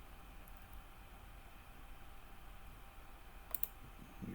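A computer mouse gives two quick, faint clicks close together near the end, over a low steady background hiss.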